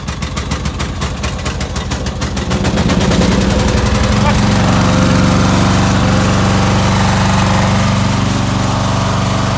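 A Turf Green lawn mower engine catches and runs, its rapid cranking pulses giving way to a loud, steady, rough running drone close by that continues throughout with no talk over it.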